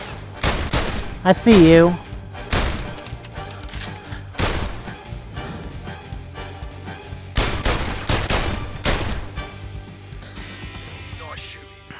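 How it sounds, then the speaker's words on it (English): Gunshots in the VR heist game London Heist, a string of sharp, loud pistol cracks spaced irregularly across the scene, with someone talking in between and a brief synthetic whoop near the start. "I can actually shoot that guy while he's outside, before he even comes in."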